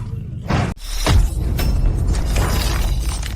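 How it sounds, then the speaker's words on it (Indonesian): A punch hits and cracks a chest bone in a martial arts drama, a loud, close cracking shatter with a heavy booming thud and a long crunching tail. "Ayo, bunyi tulang dada retak."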